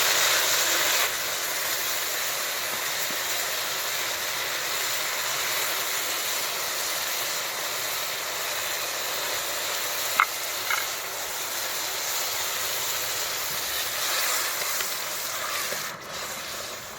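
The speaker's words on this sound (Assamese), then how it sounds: "এতিয়া বইল মাটিমাহখিনি মই ঢালি দিম কেৰাহীত।" Black gram (mati mah) tipped into a hot wok, giving a steady soft sizzle and hiss of frying that runs throughout, with a brief clink of a utensil partway through and no talk.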